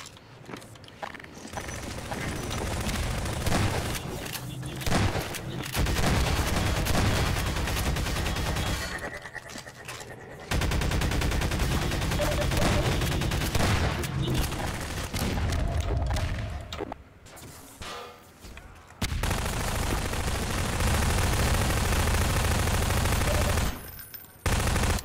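Half-Life 2 Deathmatch firefight: long stretches of rapid automatic gunfire and heavy shotgun blasts, loud and continuous with short pauses and mechanical clacks between bursts, no voices heard.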